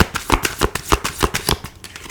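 Tarot cards are shuffled by hand in close, crisp bursts of riffling and slapping, a quick uneven rhythm of papery flutters with no talk.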